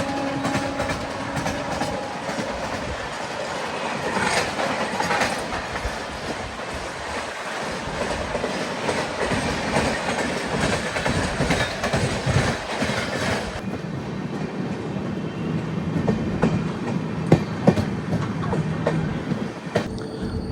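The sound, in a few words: Vande Bharat express train running on rails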